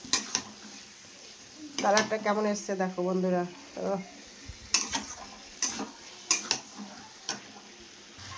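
Fried potatoes are stirred and sautéed in spices in a pan, with intermittent spatula clicks and scrapes under a faint sizzle while someone talks.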